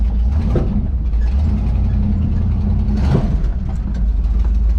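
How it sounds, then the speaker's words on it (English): A Ford Bronco drivetrain rumbles steadily in 4-wheel drive, its transfer case giving a couple of faint clunks over a continuous low engine drone. "Transfer case does sound a little clunky, doesn't it?"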